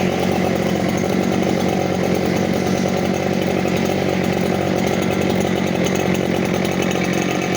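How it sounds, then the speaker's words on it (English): A leaf blower runs steadily during fall yard cleanup, its loud, close engine roar holding constant throughout with no breaks and no talking. "started the blower before I got the film running"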